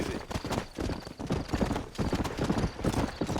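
Galloping horse hooves in the Red Dead Redemption video game, a fast, steady clip-clop rhythm that stays close and fairly loud for the whole stretch.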